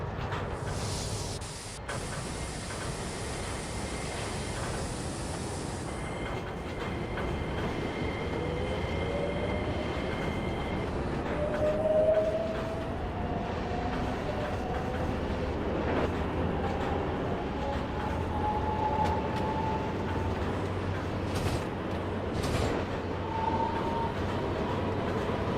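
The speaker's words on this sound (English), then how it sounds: "This is the train to East Point." MTA subway train on the East Point Branch running in snow, a steady rumble of rolling wheels with hiss and rising and falling motor whine, close and continuous.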